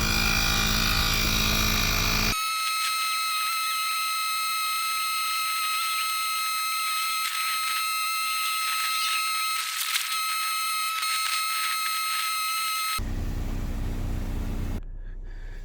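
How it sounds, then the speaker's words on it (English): A Car Tech Fussion wireless tire inflator pump runs at a car tire set to 35 PSI, giving a loud, steady high-pitched mechanical whine with a harsh buzzing tone. It starts and stops abruptly, and no one speaks. "I'm going to press the button underneath, because I already set it to 35 PSI"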